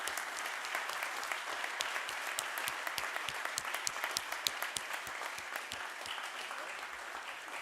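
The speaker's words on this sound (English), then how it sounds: "please give a big round of applause for our grade sport coaches" Students and staff applaud the grade sport coaches at a formal school assembly, with steady, fairly distant clapping from a crowd that carries evenly across the whole stretch without voices.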